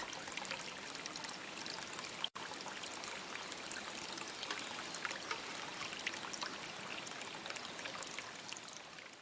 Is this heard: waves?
yes